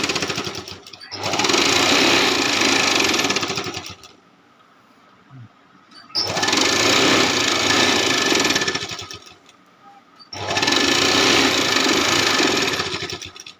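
Loud, close sewing machine stitching the border of a quilt made from old saris, running in three long steady bursts of rapid mechanical chatter separated by quiet pauses.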